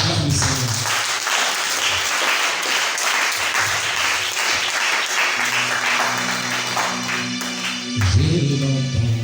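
Church congregation applauding during an evangelical service, a loud continuous wash of clapping with voices and cheering mixed in and music tones emerging underneath.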